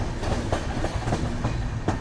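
Rumble of a Devagiri Express coach pulling away from Dharmabad station on a Nanded to Tirupati special, with steady low roar and faint periodic wheel clicks, heard from inside the train, no voices.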